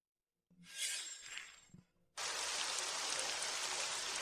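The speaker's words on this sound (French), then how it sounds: "Il pleut tellement fort." Heavy rain bursts in suddenly after a short clattering, knocking prelude, then pours as a dense, steady, close roar that holds without a break to the end.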